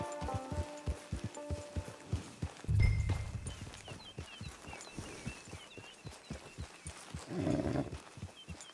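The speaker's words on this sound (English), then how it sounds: "It's your horse." A horse in Red Dead Redemption 2 walks with steady clip-clop hoofbeats, snorting and blowing twice with low breathy rumbles, set against faint ambient outdoor game sounds.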